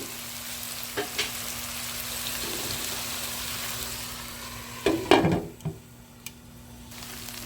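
Pork dropped into a pan for adobong sitaw with string beans, sizzling and frying steadily at low level, with a louder burst of spattering sizzle and a few clinks near the end.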